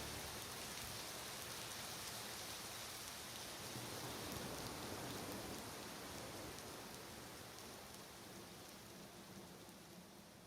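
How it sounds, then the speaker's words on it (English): Steady rain falling throughout, a dense hiss of drops on surfaces that eases slightly toward the end. "Raining again."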